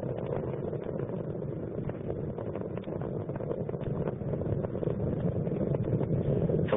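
The Space Shuttle Columbia's main engines roar during launch as they throttle up to full power, a dense and continuous rumble that stays loud and steady throughout, with a muffled, band-limited quality.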